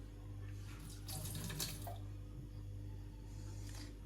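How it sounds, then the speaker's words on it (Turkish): Hot water trickling from a tap or kettle into a bottle for Aptamil baby formula; a faint, steady pour swells briefly in the middle, set against a low background hum. "Şöyle az bir şey daha sıcak su koyuyorum."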